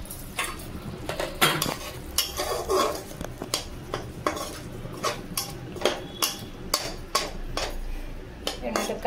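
While steamed hilsa fish cooks, a pot lid is lifted and metal pots and utensils clink and scrape in a string of sharp, close clatters with quiet pauses between them.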